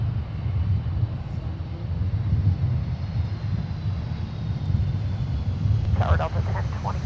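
A Boeing 757-200 airliner at Minneapolis airport gives off a continuous low engine rumble, steady and fairly loud, with a brief radio voice breaking in near the end.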